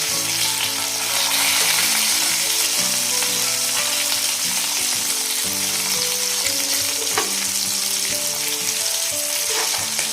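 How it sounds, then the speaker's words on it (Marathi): Vaam eel fish pieces frying in a pan to a crisp finish, a steady dense sizzle of hot oil running loud and close throughout with occasional stirring and clinks over the top. "चला पण मग आता दुसऱ्या साईडने मी फ्राय करून घेऊया"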